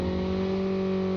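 Steady car engine drone from Call of Duty Mobile gameplay, holding a constant idle-to-rev hum with strong tonal harmonics, loud and continuous throughout with no speech.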